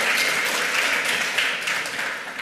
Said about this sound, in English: a round of applause for all the ham radio operators